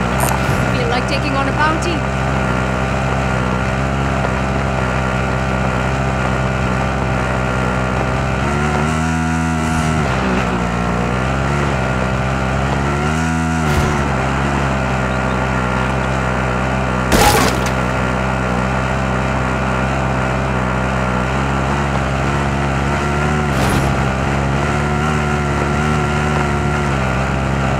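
A vehicle engine drones loudly and steadily in Call of Duty Warzone Pacific, with the pitch sliding and dipping a few times as it drives, one sharp knock partway through, and an in-game voice speaking over it.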